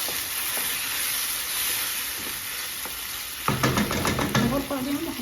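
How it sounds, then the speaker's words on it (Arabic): Chicken pieces and tomatoes fry with garlic and onion in a pan, giving a steady hiss of sizzling. Halfway through, a louder burst of stirring and spattering kicks in. "نحركوهم بيان ونخليهم يتقلاو مع داك الثوم والبصل"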